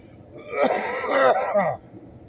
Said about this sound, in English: I haven't coughed this much all day, probably because I'm talking.